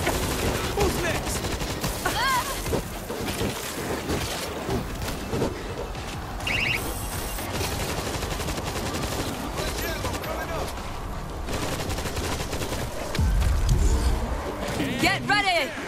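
Rapid automatic turret gunfire in the World War Z zombie shooter, set in New York, sustained bursts over a dense mix of game action, with voices talking over it throughout.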